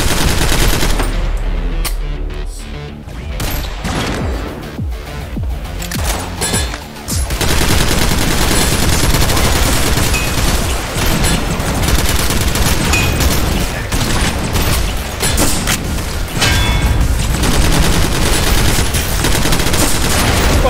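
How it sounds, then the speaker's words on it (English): A light machine gun in the top-down shooter Synthetik fires in long, dense automatic bursts, a loud, nearly unbroken roar of gunfire that dominates throughout with only a brief dip early on. "at least I got a nice light machine gun for it"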